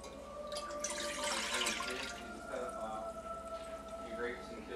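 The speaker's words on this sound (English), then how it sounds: "So I've already pre-measured out the 3 1/4 cups of Mountain Dew. So I'm going to put that in the pot." Three and a quarter cups of Mountain Dew poured into a cooking pot, a splashing liquid rush that swells and then tapers off, with a steady hum in the background.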